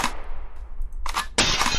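Gunshots in the video game Superhook, two sharp cracking bursts, the second louder and sustained, separated by a brief quieter gap with a decaying tail after the first.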